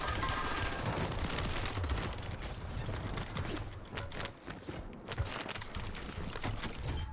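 Gunfire in Call of Duty Warzone on Rebirth Island: dense, continuous rattling bursts of shots with clattering mechanical noise, steady and moderately loud throughout, no talking.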